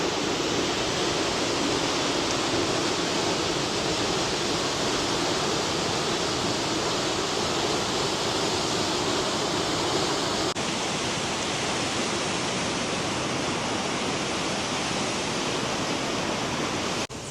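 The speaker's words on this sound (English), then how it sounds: "And now we are at the top of the falls." The upper falls of Johnston Canyon in Banff National Park roar as a steady, broad rushing wash of water, close and unbroken throughout, with no voices.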